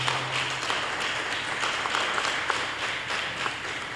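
A church congregation applauding during a service, steady dense clapping from many hands throughout, fairly close and continuous with no break.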